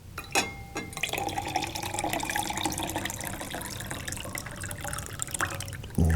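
Water and marbles pour out of a container in a classroom lecture, opening with a few clicking knocks, then a continuous close splashing and trickling stream.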